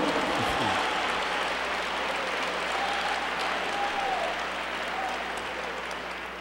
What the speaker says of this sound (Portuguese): Vamos dar um aplauso para Pedro por ele ter assimilado essa visão.